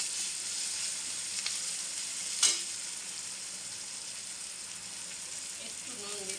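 Onions sizzle steadily in hot oil in a pan with fish already frying, a constant bright hiss with one sharp pop partway through and faint spatters near the end.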